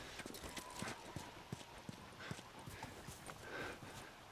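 Quiet, rhythmic clip-clop of horse hooves at a steady gait in the video game The Last of Us, faint and somewhat distant, with soft ambient noise underneath.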